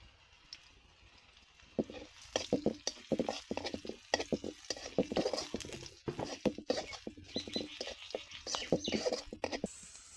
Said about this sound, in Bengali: আমি আগে পেঁয়াজ কুচিটা ভালো করে ভেজে নিব এখন দিয়ে দিব পাঁচ ফোড়ন